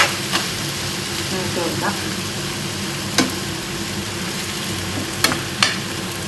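Masala frying and being stirred in a pan over a medium flame for a curry, a steady soft sizzle broken by a few sharp scraping clicks, with a brief spoken word.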